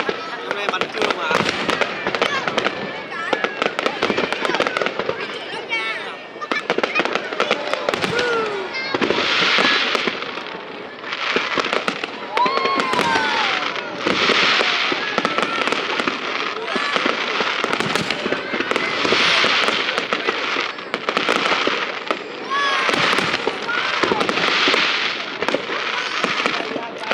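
A daytime fireworks display at the Hung Temple festival in Viet Tri sends out dense, overlapping crackling bursts and pops for nearly half a minute while people talk nearby.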